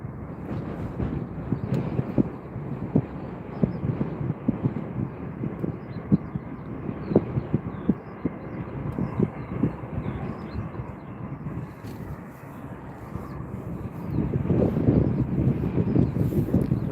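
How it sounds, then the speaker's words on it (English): Turkish Airlines Airbus A321 coming in to land at Stockholm Arlanda Airport, a distant low jet rumble mixed with gusty wind buffeting, swelling slightly louder toward the end. "Right, here comes the Turkish Airlines A321."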